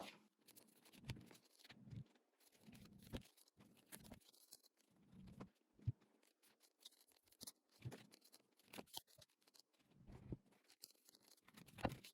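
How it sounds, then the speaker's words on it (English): Brisk papery riffling in quick bursts with short pauses, like cards being shuffled repeatedly, close up and fairly quiet, with no talking. "I will shuffle the cards."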